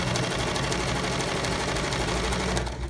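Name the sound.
sewing machine stitching a seam on fabric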